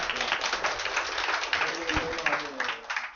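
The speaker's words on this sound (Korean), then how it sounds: "우리 이정면 대표님께 다시 한번 박수로." An audience claps after a long architecture colloquium lecture in a university hall, a moderate, steady round of applause with scattered individual claps and faint murmuring underneath.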